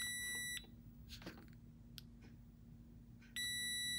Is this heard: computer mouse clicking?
no